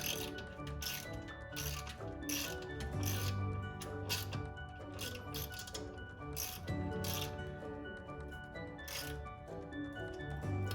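A ratchet clicks in repeated rapid bursts, close and fairly quiet, as skid plate bolts are tightened underneath a MK5 Volkswagen GTI.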